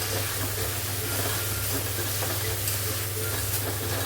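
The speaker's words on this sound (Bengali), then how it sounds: "হলুদ গুঁড়ো দিলাম এক চটকির মতো দিয়ে ভালো করে নাড়াচাড়া করে দেবো" Drumstick leaves are stir-fried in a pan with turmeric powder, giving a continuous loud sizzle with the scrape and rustle of stirring. The sound is close and steady, with no talk.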